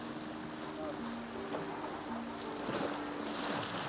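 Strong sea waves churning around Nam Du island, a rough, steady wash of water with a low tonal hum and faint voices beneath it.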